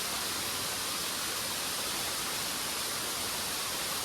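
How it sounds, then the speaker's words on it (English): A large waterfall near an ecolodge in Jardín, Colombia roars as a constant, loud, broadband rush of falling water, with no breaks or voices. "Okay, that was the waterfall"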